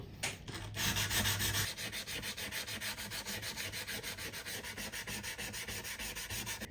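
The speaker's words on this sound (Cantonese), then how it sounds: "最後我會用呢個282號砂紙幫你啲邊角磨完少少" Rhythmic hand sanding: 282-grit sandpaper rubs back and forth on the wooden edges of an acoustic guitar in quick, even strokes, close and clear, with a brief louder burst early on.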